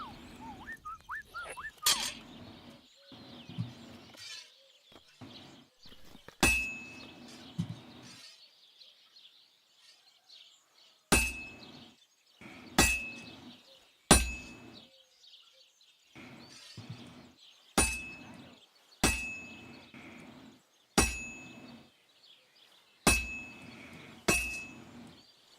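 Metal hammered on an anvil in Kingdom Come: Deliverance 2, a series of sharp ringing clanks landing one to two seconds apart after some softer rustles, fairly quiet with no talk.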